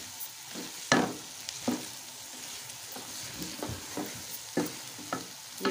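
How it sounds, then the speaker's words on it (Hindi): Okra (bhindi) cooking in a pan with masala gives a soft, steady sizzle. A spatula scrapes and knocks the pan in irregular bursts over it, close by and fairly quiet, with no voices. "अब इसे 5 मिनट मैं और पकाऊंगी ताकि हमारा मसाला भिंडी में अच्छी तरह से"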